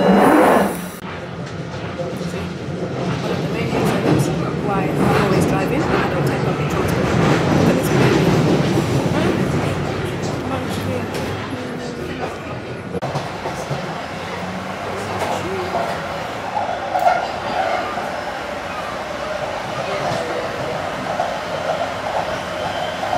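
Train rolling along rails with a steady rumble and faint clickety-clack, a loud continuous wash that eases off partway through, with indistinct voices mixed in.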